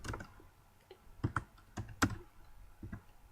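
Keystrokes on a computer keyboard typing a firewall command, with a few sharp clicks spread across the stretch, close and fairly faint, with no talking.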